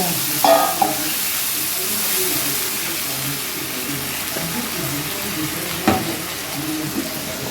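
Fried onion masala sizzles in a pan after water is added, a steady broadband hiss with a few stirring clatters, no talk.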